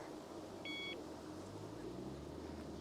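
A short electronic beep tone sounds once, a steady high pitch lasting under half a second, over a low rumbling background.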